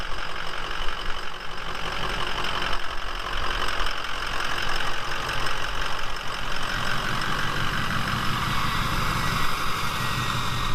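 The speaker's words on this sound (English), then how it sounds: "a straight pipe deleted 6-liter on high idle in the confined area back here is not a good idea" A straight-piped, delete-equipped 6-liter engine holds a steady high idle inside a confined shop, a loud continuous rumble with knocking and rough exhaust tone and no break.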